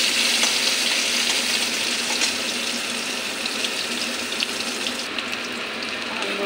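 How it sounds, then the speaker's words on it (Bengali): Turmeric- and salt-coated potatoes frying in hot oil in a wok, a steady hissing sizzle with faint crackles running throughout at moderate level, no one talking. "আলুটা লাল লাল করে ভাজা করে নেব।"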